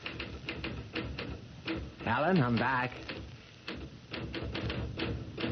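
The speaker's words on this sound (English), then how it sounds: "Stop that typing." Rapid typewriter key strikes clatter steadily through a kitchen scene, continuing under and around a person calling out.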